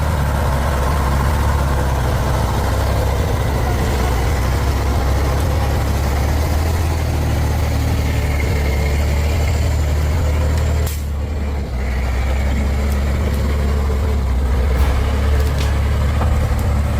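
A truck stuck in deep mud roars hoarsely in a loud, continuous heavy engine drone, steady and close, with a brief dip and a faint hiss partway through.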